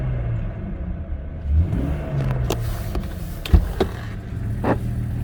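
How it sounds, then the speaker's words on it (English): A 2000 Jeep Grand Cherokee Laredo's 4.0-liter inline-6 engine idles with a deep rumble, then revs in several short bursts that rise and fall, loud and close, with a slight exhaust leak. "she sounds good. Good old 4-liter inline 6."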